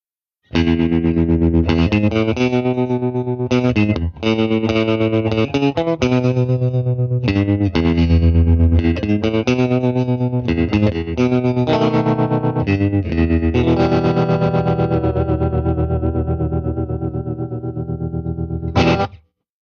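Distorted electric guitar chords through a Purdy tremolo pedal and Purdy Tweed tube amp pulse with a steady wavering volume effect, played continuously and loud before a final ringing chord and abrupt stop.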